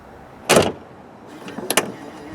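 Aston Martin DB11 hood being shut, a sharp thud followed about a second later by a soft whir and a quick pair of mechanical clicks as the latch pulls it closed, near and alone.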